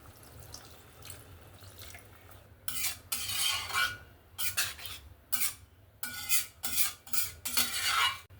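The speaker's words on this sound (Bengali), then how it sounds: "জল দিয়ে ভালো করে নাড়াচাড়া করে নিলাম" Capsicum and egg gravy being stirred in a pan after water is added, bursts of spoon scraping and sloshing liquid in uneven strokes, close and fairly quiet with no talking.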